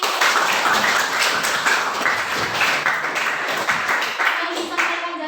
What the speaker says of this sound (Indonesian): tepuk tangan dulu buat Jasmine